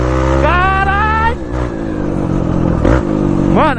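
A quad bike engine revs hard in the GTA video game, its pitch climbing in rising sweeps, then dropping and surging again close up with a rough, buzzing drone throughout.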